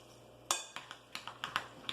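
Series of sharp clinks and taps from a utensil hitting a bowl while a TVP meatball mixture is stirred together with breadcrumbs, about eight irregular strikes, close and clear with no talk.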